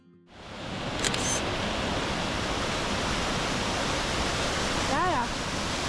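A waterfall beside a hiking trail in the Julian Alps of Slovenia roars as a steady, loud rush of falling water that fills the whole clip after a brief quieter start.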